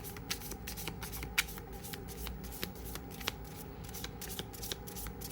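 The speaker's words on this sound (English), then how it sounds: "This deck is so easy to shuffle that I don't have any flying out cards." A deck of playing cards being shuffled by hand, with repeated crisp riffling bursts and sharp flicks, close and moderately quiet, with no talking.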